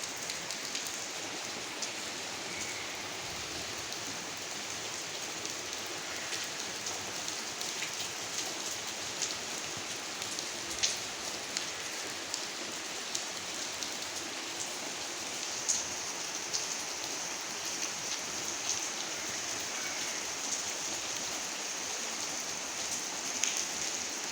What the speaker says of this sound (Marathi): अगं बाहेर पाऊस येतोय